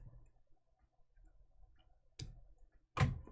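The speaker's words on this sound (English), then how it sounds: "And now it's time to snip." Scissors snipping embroidery thread after a pin stitch, two sharp close metallic clicks about a second apart following a quiet, near-silent stretch, with no talking.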